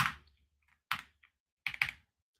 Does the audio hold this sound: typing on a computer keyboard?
yes